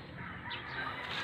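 Caged chickens, about twenty of them, cluck in a low continuous murmur at close range, with no voices over them.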